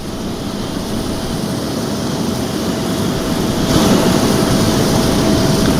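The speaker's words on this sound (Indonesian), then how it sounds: "Pesawat yang ditumpangi Presiden Prabowo Subianto mendarat di Bandara Halim Perdana Kusuma, Jakarta" Presidential airplane landing at Halim Perdanakusuma airport in Jakarta, a steady loud broadband engine roar that swells slightly toward the end, with no voices.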